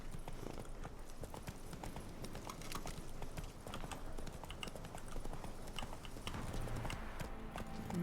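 Roach, the horse from The Witcher 3, gallops with dense rapid hoofbeats drumming steadily and loudly throughout, with a faint voice briefly heard.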